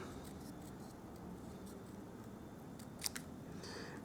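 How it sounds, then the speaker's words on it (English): Scissors snipping around a stamped paper label for a handmade card: a few quiet, quick cuts and a small crisp snip near the end, set against a low room hum. "So I'll just quickly fussy cut along that one."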